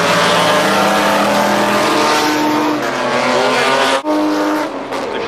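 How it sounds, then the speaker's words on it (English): A Chevrolet race car at the Goodwood Revival race meeting: a loud, close engine roar with rising and falling harmonic pitch as it accelerates past, with no talk. "The Chevy comes in."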